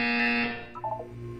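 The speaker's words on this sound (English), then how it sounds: "You will hear a buzzer." A test chamber buzzer from the Portal 2 video game blares as a loud, steady electronic tone for about half a second, then fades into a brief warbling electronic flourish.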